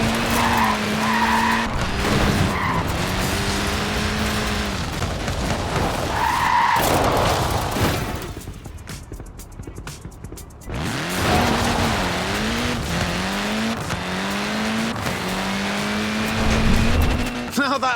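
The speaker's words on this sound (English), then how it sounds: "Look at that, laying down some rubber there." A Mini skidding and laying rubber in Forza Horizon 4, its small tyres squealing in long wavering howls over loud engine noise, with a brief quieter gap midway before the squeals return.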